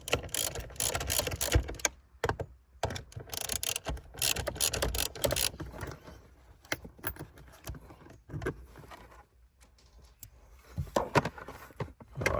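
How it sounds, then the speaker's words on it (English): A socket-set ratchet removes two bolts while an auto-mate is installed in a Mitsubishi Challenger PB/PC or Triton MN, giving close, intermittent bursts of quick metallic clicking separated by short pauses. "we take these two bolts out here, and I'll just get the socket set to do that"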